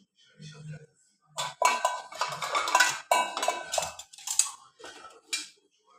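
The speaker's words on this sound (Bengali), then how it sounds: "তো এখানে রেখে দিচ্ছি একটা বাটি নিয়ে" Kitchen clatter of a bowl and utensils being set down, several clinks and knocks in short bursts, with someone talking between and over them.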